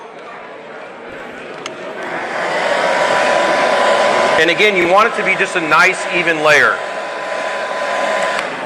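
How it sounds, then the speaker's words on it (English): A hair dryer blows with a steady, loud whoosh while someone talks over it, and a small dog yips and whimpers briefly in the middle. "And then what I do is I dry it off with the hair dryer."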